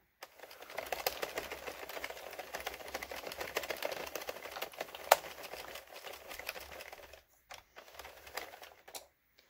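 A knitting machine runs a few stitches on a blanket, giving a quick, busy clatter of small mechanical clicks and taps that carries on for several seconds, then breaks off into short bursts near the end.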